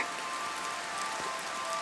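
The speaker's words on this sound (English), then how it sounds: "Rain pattered gently against the kitchen window" Rain patters steadily against a kitchen window, a soft, even hiss of drops with no voices over it.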